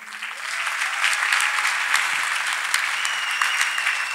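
A congregation at a church testimony service claps steadily, the dense applause swelling slightly after the opening and holding at an even, fairly loud level to the end.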